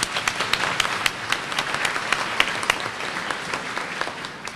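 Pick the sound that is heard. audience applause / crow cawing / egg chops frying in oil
audience applause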